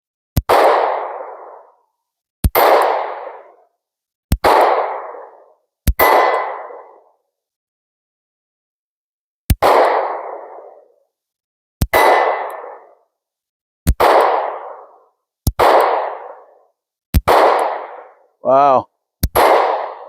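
Pistol shots from a SIG P365 SAS firing Winchester 115 grain ammunition, nine loud single reports spaced a second or two apart, each with a short decaying ring, and a brief spoken exclamation near the end.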